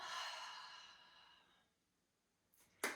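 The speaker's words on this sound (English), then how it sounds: "We'll inhale through our nose, exhale through our mouth" A single long, breathy exhale through the mouth at the close of a low-impact strengthening fitness class, trailing off into quiet before a faint rustle.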